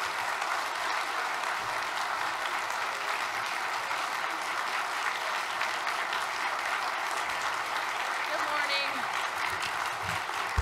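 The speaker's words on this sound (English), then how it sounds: "I want y'all to give her a really good applause" Steady applause from a conference audience carries on without a break, moderately distant and even in level, with no voices over it.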